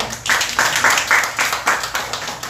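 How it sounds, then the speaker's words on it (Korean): A small room of youth at a church service claps in thanks for a teacher, a short burst of sparse, uneven hand claps, close and fairly loud. "우리 선생님께 격려와 감사의 박수"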